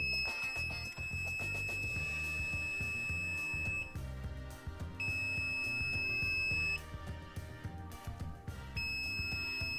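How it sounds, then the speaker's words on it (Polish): A UNI-T UTi690A thermal camera's alarm buzzer beeps in long repeated high-pitched tones with short gaps between them, faint and thin over background noise. "Tutaj mamy ustawienie alarmu, alarm wizualny i buzzer."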